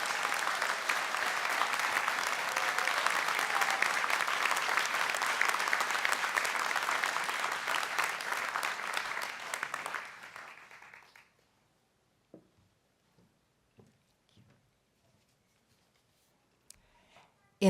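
A graduation ceremony audience applauds master's degree recipients, loud sustained clapping filling a large hall for about ten seconds before cutting off into near silence broken by a few faint knocks and rustles.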